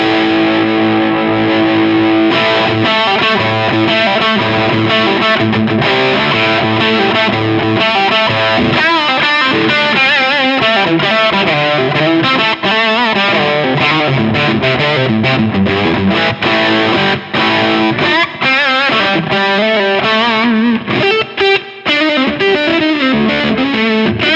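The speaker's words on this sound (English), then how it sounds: "now we're entering into that more compressed, higher gain, almost fuzzy section" Electric guitar through a Kernom Ridge overdrive pedal set to high, compressed, almost fuzzy gain, played loud and close in sustained chords and lines with thick saturation, alone without talk.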